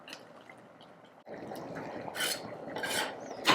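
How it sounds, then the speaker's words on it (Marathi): Grated carrot halwa cooking down with milk in a pan, soft scraping and stirring strokes with faint bubbling, quiet at first and then louder rubbing bursts toward the end. "आता याला आपल्याला थोडस असंच परतून घ्यायचं आहे"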